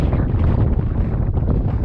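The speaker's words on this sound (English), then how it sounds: "Really windy day." Strong, blustery wind on open plains buffets the microphone in a loud, continuous low roar with no voices.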